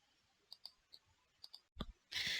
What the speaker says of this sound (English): Once this is created, click Save.